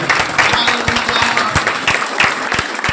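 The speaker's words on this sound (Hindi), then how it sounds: "एक बार जोरदार पवित्र आत्मा के लिए ताली बजाएं।" A congregation at a Hindi Christian healing festival claps loudly and rhythmically together, sharp repeated hand strikes keeping a steady beat over a broad crowd din.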